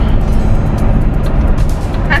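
A car being driven on the road, with a steady loud rumble of engine and tyre noise from inside the vehicle, continuous throughout and with a brief faint voice near the end.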